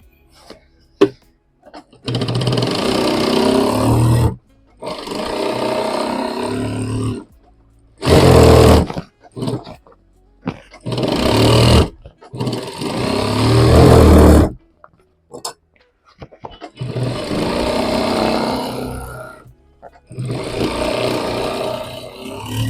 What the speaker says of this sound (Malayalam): ഇനി അത് നമ്മൾ മറിച്ചിട്ട് ഒന്നുകൂടെ സ്റ്റിച്ച് ചെയ്യാം